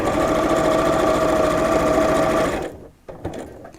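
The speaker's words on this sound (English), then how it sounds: "so I'll sew this and then I'll show you what I've done" A sewing machine runs continuously through fabric, stitching in a fast, even buzz at close range, then stops and is followed by a few faint handling clicks.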